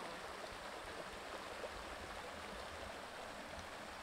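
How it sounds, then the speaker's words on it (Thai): A small hidden waterfall stream near Chiang Mai gives a steady, dense rush of flowing water, close by and continuous, with no voices. "เจอแล้วน้ำตกน้อย"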